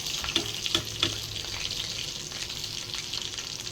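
Chicken nuggets deep-frying in hot oil, KFC style, with a steady close sizzle and a few crisp pops near the start, no voices over it.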